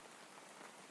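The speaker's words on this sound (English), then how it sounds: "Rain whispered against the windows again, soft and steady." Rain patters softly and steadily against windows, a faint, even hiss of drops with no breaks.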